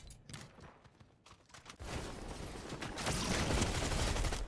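Pistol gunfire in Fortnite gameplay, a few quick sharp shots early on, then a dense continuous roar of game noise filling the rest.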